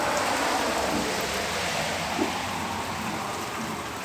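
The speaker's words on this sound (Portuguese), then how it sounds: "Chovendo desde as 5 da manhã." Steady rain falls in a dense, even hiss during an early-morning downpour, with a faint low rumble that may be distant thunder underneath.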